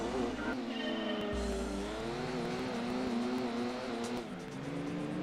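A race car in the Gran Turismo 2 video game screams through a high engine whine, dropping sharply at a quick gear change, then climbing again at steady loud volume, with faint commentary beneath.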